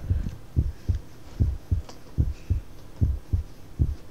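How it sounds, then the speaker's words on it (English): Slow, steady heartbeat thumps in a horror video game, a regular double-pulsed throb repeating about twice per second, loud and close with no talking over it. "I hear heartbeats."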